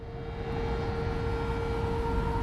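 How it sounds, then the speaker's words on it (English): A tornado siren wails in Frostpunk 2 during a whiteout, a steady tone held over heavy rumbling wind and storm noise. "There's a tornado siren going off."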